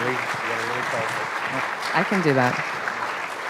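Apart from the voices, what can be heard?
audience applause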